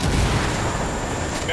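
A frag grenade detonates in Ghost Recon Wildlands as a loud, close, broadband blast that roars and fills the whole brief moment without fading.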